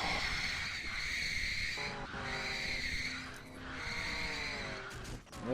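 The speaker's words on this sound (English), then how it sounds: "You can just hear people banging off each other" Race cars in the NR2003 stock car racing game roar and screech with tire squeal, their engine tones sweeping up and down. Near the end comes a short burst of impact noise, with no voices.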